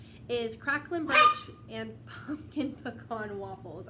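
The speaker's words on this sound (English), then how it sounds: "I'm really sorry about my dogs." Dogs bark and yip in short bursts, interleaved with a person speaking at a similar level.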